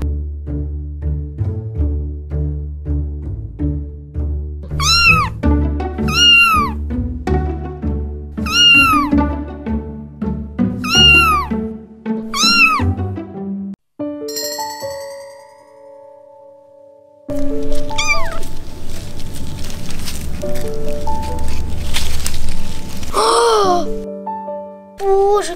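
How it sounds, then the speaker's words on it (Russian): Small kittens meowing repeatedly in short, plaintive cries, close and fairly loud, with a few longer wailing calls and a burst of rustling noise near the end. "Будто бы мяучит маленький котенок."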